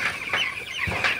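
Broiler chickens in a poultry shed at night cluck and call in short, close bursts, several birds overlapping in a steady low murmur.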